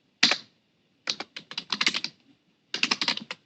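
Fingers type on a computer keyboard in quick bursts of clicky keystrokes, a short cluster, a pause, then longer runs of rapid taps, close and fairly quiet with no talking.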